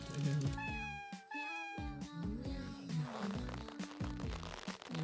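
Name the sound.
cat meowing, mother cat with her kitten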